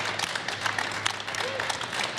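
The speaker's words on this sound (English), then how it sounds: "how about a resounding round of applause for our guest today?" Audience at a broadcast audio round table at NAB 2018 claps, a sustained wash of applause from a mid-sized crowd with scattered voices mixed in.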